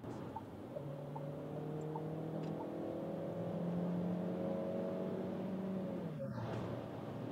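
A Dacia Bigster accelerates on the German autobahn, heard from inside as a steady engine drone with tonal whine climbing gradually, then a gear change near the end; moderate level, no talking.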